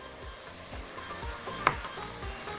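Tomatoes hit a pan of frying peas, carrots and celery for a vegetable pasta soup, with a constant close sizzle and one sharp hiss and clatter as they drop in.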